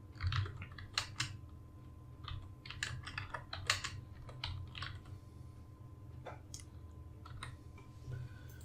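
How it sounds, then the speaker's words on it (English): Quiet typing on a computer keyboard, with irregular bursts of soft key clicks over a low steady hum. "Now I type this, exactly this here."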